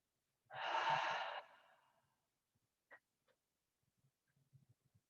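Slow breathing during an aikido breathing exercise, one long soft exhale heard close in a quiet room, then faint small breaths and rustles.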